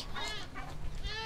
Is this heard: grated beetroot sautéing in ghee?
no